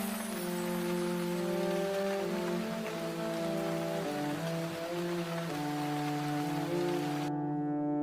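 Heavy rain falls as a constant hiss under sustained tonal music, continuing steadily before cutting off abruptly near the end.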